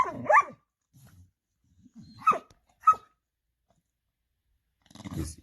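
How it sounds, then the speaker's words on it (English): A herding dog guarding a bone gives several short, close growls and grumbles, spaced apart with quiet gaps between them and a low rumble at the end. "Hey, you hear how Grey Goose is growling at him"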